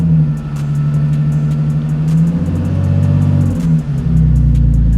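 A cold BMW Z4 idling in sport mode, a steady deep engine hum with a slight rise and dip in revs, close and continuous with faint ticking above it.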